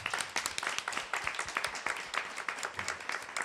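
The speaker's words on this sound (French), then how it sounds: "Félicitations, on peut applaudir Oli." Applause for a contestant named Oli at a selection event, a crowd clapping steadily and briskly for a few seconds, fairly faint and distant, with no voices over it.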